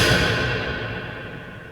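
A door slam run through Ableton's Cathedral reverb plugin, heard as a loud initial hit that spreads into a long, washy, slowly fading cathedral-like tail with no voices present.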